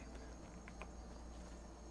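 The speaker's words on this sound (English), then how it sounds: "the nice soft sounds of the crickets chirping" Crickets chirp softly and steadily against a faint background hiss, quiet and continuous with no voices.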